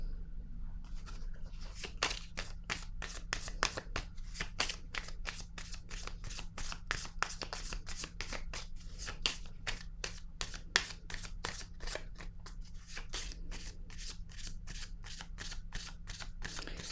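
Playing cards are shuffled in a rapid, steady riffle of crisp slaps and flicks, close and clear over a low steady hum, during a tarot reading with no talking.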